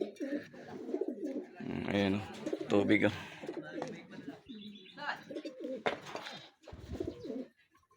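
Racing pigeons coo softly in bursts close by, mixed with light chirps, while someone talks over them.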